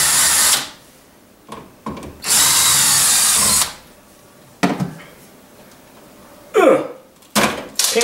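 A power drill bursts in several loud whirring runs while backing screws out of a dead electrical outlet in a wall, with short pauses and small clicks between bursts.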